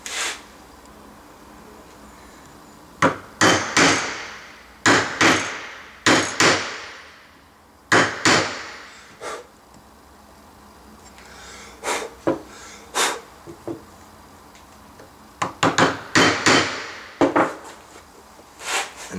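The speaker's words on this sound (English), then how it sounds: "now you're not supposed to hit this kind of chisel, which is normally called a paring chisel, with a mallet" Paring chisel struck with a mallet to cut wood, sharp woody knocks coming singly and in quick clusters of two to four, close and loud, separated by quiet pauses while a bookstand knuckle joint is cut.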